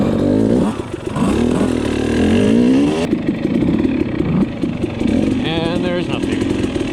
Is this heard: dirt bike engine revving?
yes